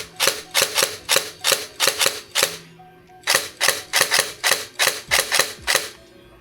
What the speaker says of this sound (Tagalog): Dry fire natin. Firing.